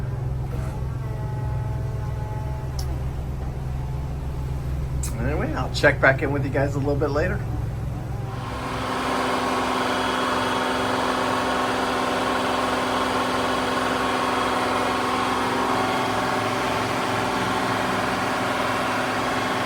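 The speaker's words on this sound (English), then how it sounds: "Sea conditions are good. Engines are running good." Marine diesel engines of a 65-foot Hatteras LRC yacht drone steadily at sea, a loud continuous low rumble; someone talks over the engines early on, and the drone stays even throughout.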